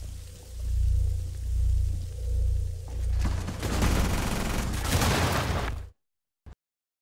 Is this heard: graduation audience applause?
no